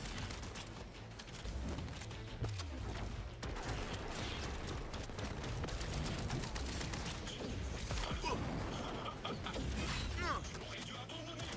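Gunfire from combat in Cyberpunk 2077 Phantom Liberty, a dense stretch of rapid shots and impacts over a busy mix of game noise, with voices talking through it.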